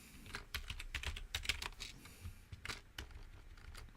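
Typing on a computer keyboard, a quick, close run of soft key clicks with brief pauses, faint and with no voices.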